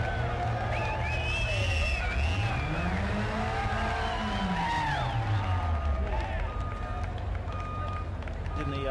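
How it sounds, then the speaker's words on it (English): A green Suzuki off-road truck at a tuff truck challenge revs hard and continuously, engine pitch rising and falling as it climbs, with a commentator talking over it and a crowd audible in the background. "You hear them giving it plenty of RPM as they get across the 100-point marker"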